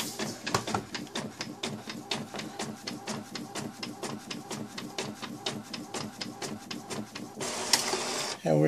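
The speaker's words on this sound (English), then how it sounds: "And now we're going to just print the label." A printer running off a shipping label, with a steady rapid train of mechanical clicks and whirring feed strokes for several seconds, close and fairly loud, ending in a brief burst of louder noise.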